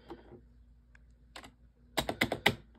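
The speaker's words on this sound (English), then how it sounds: "Next up, we have the Corsair K55 RGB Pro. This is my keyboard." Sharp mechanical keyboard clacks from a Corsair K55 RGB Pro, a few scattered taps early, then a loud quick burst of five or six keystrokes near the end.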